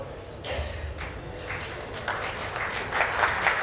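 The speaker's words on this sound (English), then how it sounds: "Big round of applause for Ambassador Yagi-san." Audience applause for an ambassador at an evening joint-venture launch event, a dense, moderately loud patter of many hands that builds slightly toward the end.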